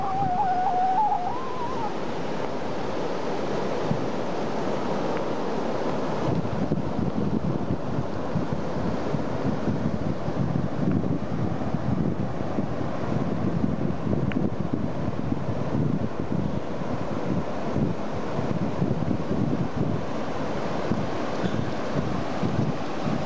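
Wind and ocean surf on the Costa Rica coast, a continuous roar of buffeting wind over breaking waves that stays steady and loud throughout.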